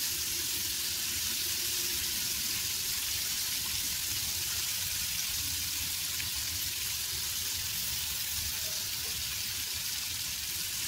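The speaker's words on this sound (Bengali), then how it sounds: "এইগুলোকে খুব সাবধানে উল্টে পাল্টে হালকা করে ভেজে নিতে হবে" Large cut paneer pieces sizzle gently in hot oil in a pan while being turned, a soft continuous crackling hiss at moderate distance, even and unbroken with no talking.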